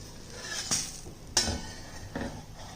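A dosa being flipped in a pan with a spatula: a few sharp metallic scrapes and taps against the pan, spaced about half a second apart, close and fairly quiet with no talk.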